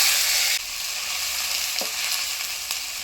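Ground onion paste, made on a grinding stone, sizzles loudly in hot oil already tempered with cumin. A bright, dense frying hiss drops a little after the first half second, then carries on steadily with faint stirring knocks.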